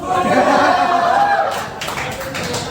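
A stand-up comedy audience at Lucknow University breaks into clapping: someone talks first, then a scattered burst of hand claps takes over for the last second or so.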